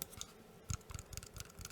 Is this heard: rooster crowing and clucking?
no